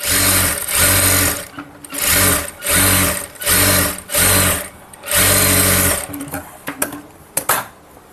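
Sewing machine stitching piping onto a blouse, six loud close runs of rapid mechanical whirring separated by short pauses, followed by a few clicks and taps as the fabric is handled.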